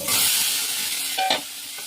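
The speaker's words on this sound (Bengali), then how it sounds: "এবার যে পটলগুলো আমি ঢেলে দিয়ে দিচ্ছি।" Pointed gourd pieces poured into a pan with potatoes fry in oil with a strong, close sizzle. The sizzle eases toward the end, and a short clatter of stirring comes near the end.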